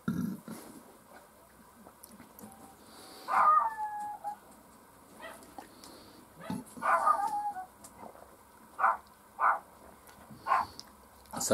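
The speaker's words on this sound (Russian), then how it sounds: "Собаки лают на луну." Dogs at night give a series of scattered barks and drawn-out howls, with some whimpering in between. The calls come in separate bursts over a quiet background and sound moderately distant.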